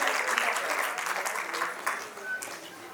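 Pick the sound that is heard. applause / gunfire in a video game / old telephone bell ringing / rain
applause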